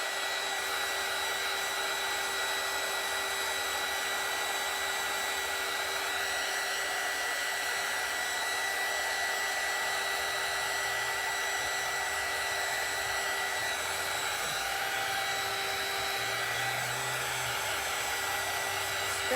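Hair dryer blowing steadily to dry ink on an underwater-themed artwork, a continuous close whirring hum with a faint high whine, running alone without pause throughout.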